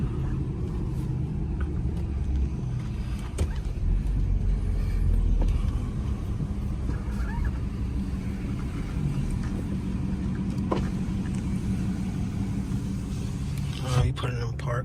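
Low engine rumble and road noise from a BMW M3 F80 driving and turning, steady throughout with a slight swell midway, heard from inside the cabin.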